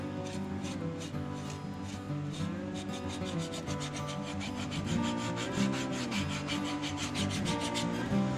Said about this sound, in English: This is one of my favorite tools I use here for sanding, this padded drum sander.